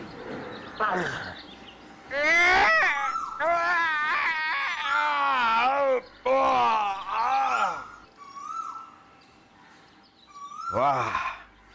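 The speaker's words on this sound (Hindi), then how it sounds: "हमारे महल में से रोने की आवाज।" Someone cries inside a palace, with drawn-out sobbing wails and quivering, broken cries that rise and fall in bursts separated by short pauses.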